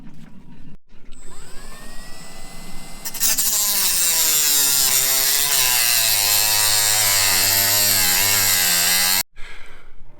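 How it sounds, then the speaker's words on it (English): A Dremel multi-tool cuts out a snapped screw on a Lewmar boat portlight, starting with a short whine and then grinding loudly and steadily for several seconds before cutting off abruptly near the end. "So I've had to Dremel multi-tool it"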